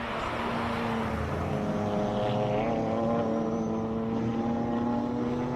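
A Nissan R33 GTR with a 2.5-litre turbocharged six-cylinder engine runs at a classic car hillclimb, a steady droning engine note held at moderate revs, loud and continuous with no voices.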